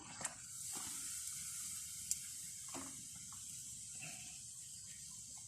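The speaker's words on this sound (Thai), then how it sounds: "ตอนนี้มันเดือดอยู่" A pot of shellfish boils with a soft, steady hiss and faint bubbling, quiet and continuous, with a few small clicks and knocks.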